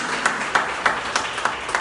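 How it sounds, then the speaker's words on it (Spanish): A church congregation claps in rhythm for Jesus, about six sharp, evenly spaced claps of moderate loudness over a faint room hum. "Démosle ese aplauso a Jesús"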